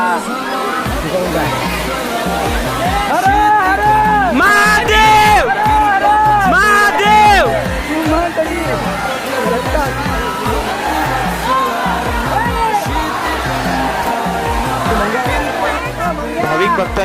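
A large crowd of devotees at Jatashankar waterfall in the Ambabarwa sanctuary, Buldhana, makes a dense, steady hubbub of many voices with sung or chanted tones rising through it, loud and close throughout.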